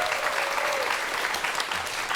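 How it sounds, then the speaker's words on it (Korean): An audience gives a steady, dense round of applause to welcome two speakers, physics professors, onto a lecture stage, loud and continuous throughout. "오늘의 강연자 두 분을 박수로 환영해 주십시오"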